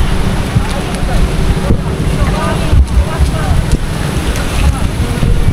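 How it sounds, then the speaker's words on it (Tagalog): Strong wind outdoors where a drone is being flown, roaring steadily and buffeting the microphone throughout, with a faint voice now and then. "Oh, malakas ang hangin."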